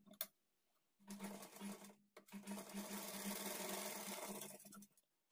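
A sewing machine runs short and long bursts of stitching along a blouse seam, double-stitched at a half-inch margin, a close, even mechanical whir with a brief pause between runs.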